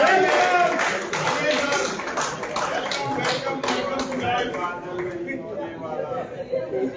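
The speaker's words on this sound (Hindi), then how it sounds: "तो जोरदार तालियों से स्वागत करिए अजय श्रीवास्तव जी मधुघोष का।" A hall audience at a Haridwar poetry festival gives dense, rolling applause to welcome a poet, the clapping strongest at first and then gradually thinning out.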